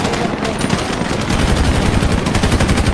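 Loud, rapid automatic gunfire fills a shooter video game battle, with dense bursts of shots running continuously and close up front.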